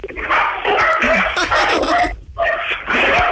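A dog barks and yips repeatedly up close, excited high-pitched bursts with brief pauses between them.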